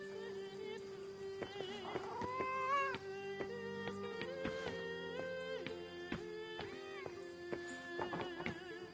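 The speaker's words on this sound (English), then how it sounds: "What a good kitty you are." A cat in the video game Pentiment meows repeatedly, with several drawn-out, rising and falling calls close by over a soft tonal backdrop.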